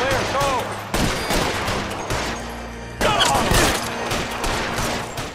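Bursts of gunfire in the video game LA Noire, several rapid volleys of shots with sharp onsets and ringing decays, loud and close, separated by brief lulls.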